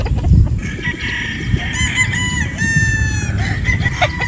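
A gamefowl stag at a Batangas game farm crows loudly and close, one drawn-out call rising over other clucking fowl and outdoor background noise.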